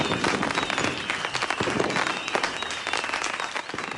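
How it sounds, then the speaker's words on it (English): A burst of cheering crowd and crackling fireworks used as a sound effect, dense and continuous at moderate loudness, with no voices. "let's play a little sound effect here, a little cheer, fireworks or something"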